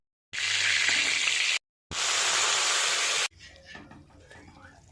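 Black pepper and bay leaves hit hot white oil in a wok and sizzle loudly in two strong bursts separated by a short gap, then fade to a quieter crackle.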